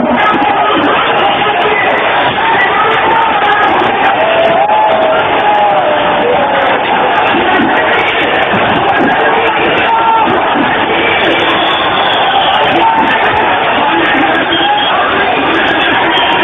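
An angry, frenzied crowd roars and shouts continuously at the Babri Masjid demolition, a dense, loud wall of voices with no break, heard through a narrow, old-sounding recording.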